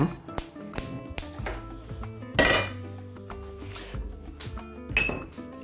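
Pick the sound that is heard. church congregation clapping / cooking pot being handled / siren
cooking pot being handled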